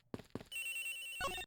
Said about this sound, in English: The ringing is coming from somewhere around here.